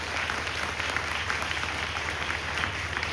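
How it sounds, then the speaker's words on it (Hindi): Congregation applauding during a Christmas church sermon, dense sustained clapping from a large crowd filling the room evenly, with a faint constant hum beneath. "क्या आप जोरदार ताली बजा सकते हैं पवित्र आत्मा जी के लिए?"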